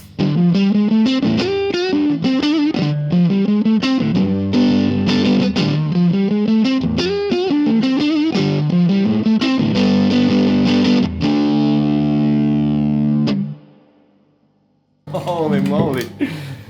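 Fender '64 Stratocaster played through a '66 Super Reverb amp, loud and close: a steady strummed chord pattern with slightly driven tone rings for about thirteen seconds, decays into silence, then a final bright chord sounds.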